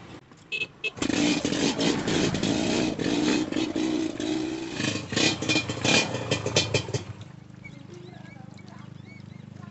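A new motorcycle's engine starts and runs close by, rumbling loudly with uneven surges before dropping to a lower idle, while people talk over it.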